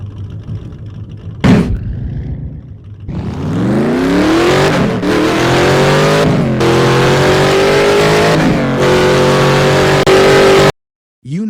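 A car engine revs up and accelerates loudly and close by, its pitch climbing steadily across several gear-like surges before cutting off abruptly near the end.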